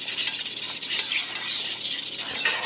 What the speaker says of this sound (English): Just going to mix that in our pan up really well